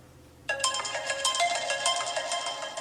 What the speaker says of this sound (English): That is by far the loudest sounding iPhone right here, so credit to you, Fanta.